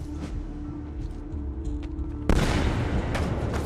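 Gunshot in the Assassin's Creed 2 video game, a sudden loud burst near the end that follows a steady, busy stretch of game sound.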